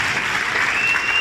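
A church congregation bursts into a short round of loud, dense clapping during a live worship gathering, with a faint trace of voices under the applause.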